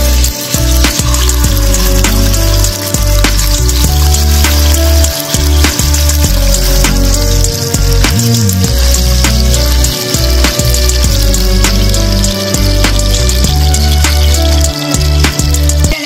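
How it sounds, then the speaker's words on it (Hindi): Pieces of black rohu fish fry in a little leftover oil, giving a loud, continuous sizzle and crackle with sharp spattering pops scattered throughout, heard up close without talk. "जो थोड़ा सा बचा है उसमें हम फिश को फ्राई करते हैं"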